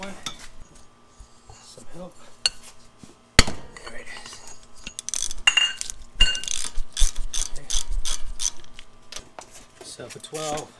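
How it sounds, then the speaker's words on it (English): Ratchet clicking while brake caliper bolts are loosened on an Acura Integra: bursts of rapid metallic clicks and clanks from tools and parts, close up, with intermittent pauses and a sharp knock partway through. "let's go ahead and take the brake caliper and the brake caliper bracket off"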